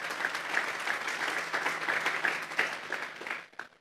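A church congregation applauds during a Sunday worship service, steady mid-distance clapping from many hands sustained for about three and a half seconds before tapering off.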